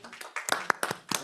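Several people clap hands at a village board meeting, a short, loose patter of sharp claps in an irregular rhythm, fairly close.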